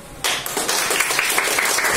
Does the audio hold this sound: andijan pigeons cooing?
no